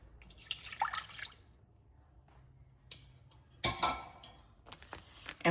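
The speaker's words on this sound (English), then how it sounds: "now we're going to add the cup of water" Water splashes and trickles into a crock pot in short bursts, with quiet gaps and small drips between pours, close and fairly soft.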